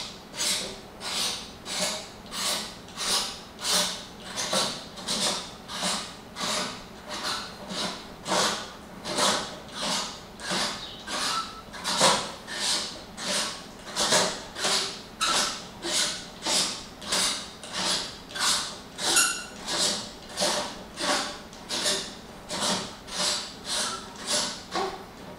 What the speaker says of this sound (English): Simply screw back on the whole Off Axis Guider and camera setup